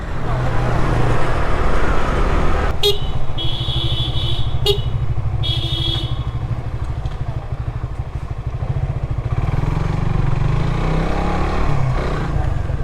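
A Runner Bolt motorcycle rides on a busy road, its engine droning steadily under traffic noise, with several sharp horn toots partway through and the engine rising again near the end.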